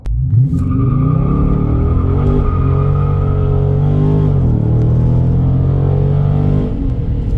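A Dodge Charger Scat Pack launches on a 0 to 60 run, its engine roaring loud and close as the pitch climbs steadily through the gears for several seconds with no talk.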